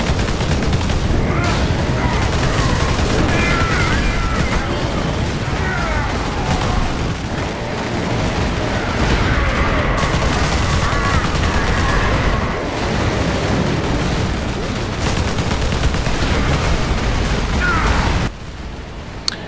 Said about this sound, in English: you can use it as a real machine gun, otherwise it's just chug-chug-chug